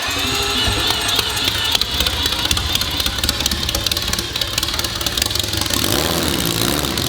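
A loud four-rotor billet rotary engine runs steadily with a rough, buzzing drone and rattling undertone, close by and unbroken throughout.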